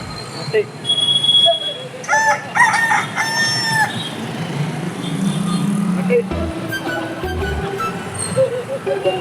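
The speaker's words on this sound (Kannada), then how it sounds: "ಕೋಳಿ ಬಂತು" A rooster crows loudly nearby, a long drawn-out call, followed by background chatter and farmyard noise.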